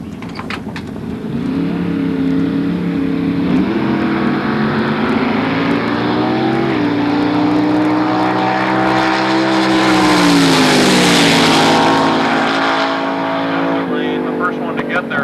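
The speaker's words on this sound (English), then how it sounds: "a vintage front engine dragster, 377 cubic inches of iron V8 Chevrolet injected on alcohol" A vintage front-engine dragster with an injected 377 cubic inch iron Chevrolet V8 running on alcohol idles and revs loudly at the drag strip, its engine note rising and falling in a sustained blare, with a announcer's voice underneath.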